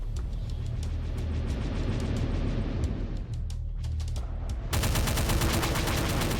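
Retro Doom II gunfire while fighting an enemy: steady repeated shots thud along for several seconds, then a louder, faster burst of rapid automatic fire takes over near the end, with no talking.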